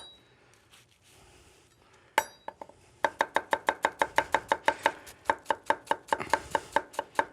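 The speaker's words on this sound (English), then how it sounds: "So the onion, you just want to cut them." An onion is chopped finely with a knife on a board after a couple of isolated taps, then a fast, even run of sharp close knocks, roughly three per second, loud and alone with no talking.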